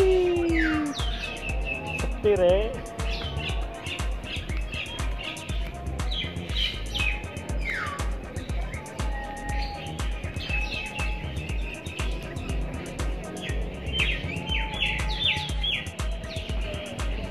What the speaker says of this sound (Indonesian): Nah, ini ada jalak bali.